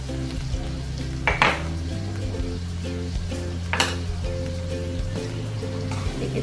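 Jambal roti salted fish and petai sauté in a pan with mushroom stock and oyster sauce, giving a steady sizzle with two brief scraping bursts of stirring over a low, humming background tone.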